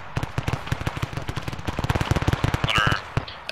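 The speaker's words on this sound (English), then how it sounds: "We're hearing a lot of gunfire." Rapid bursts of gunfire in the combat flight simulator DCS World crackle in quick succession, loud and close, with sharp overlapping shots and a brief higher-pitched whine near the end.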